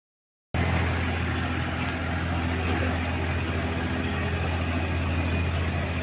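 A wooden barge's engine drones steadily on the water, a dense, loud, continuous mechanical roar that starts abruptly and holds without a break.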